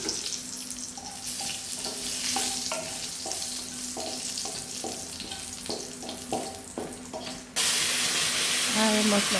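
Dried red chilies and cumin seeds crackle in hot oil for a tempering, a steady close sizzle with repeated light taps of a spoon against the pan. The frying gets louder near the end.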